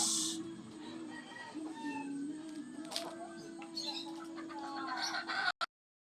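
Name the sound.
hen clucking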